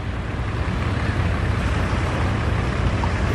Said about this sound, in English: Jet ski from Richards Bay.